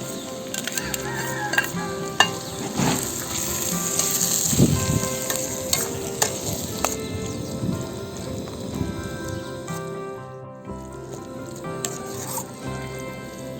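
Spatula stirring and mashing boiled peas into sautéed carrots and beans in a hot pan, steady sizzling with scraping clatter of utensil against metal throughout, close and moderately loud, no talking.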